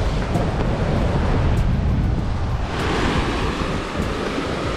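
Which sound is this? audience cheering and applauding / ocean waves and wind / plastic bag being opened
ocean waves and wind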